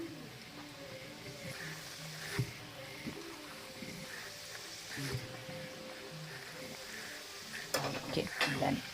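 Somas, a traditional sweet, dropped into hot oil for deep frying, a soft, steady bubbling sizzle with occasional utensil knocks and scrapes, fairly quiet and close.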